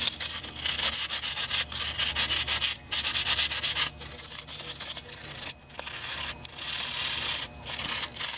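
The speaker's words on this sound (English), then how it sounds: "So I got myself some 1000 grit sandpaper and just going to lightly remove the carbon glaze" Hand sanding with 1000 grit sandpaper rubs carbon glaze off a Sears 325.11631 dual motion sander part, a close, bright scratchy rasp in steady back-and-forth strokes with brief pauses between passes.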